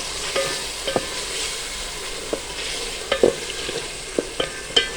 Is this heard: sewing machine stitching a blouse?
no